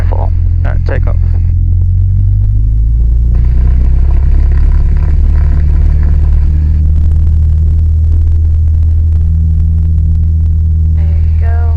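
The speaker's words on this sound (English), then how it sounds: "smoothly apply the throttle all the way to full. Alright, take off." A light aircraft engine at full throttle on the takeoff roll, a loud steady droning rumble filling the cabin throughout, with an instructor's voice talking over it at moments.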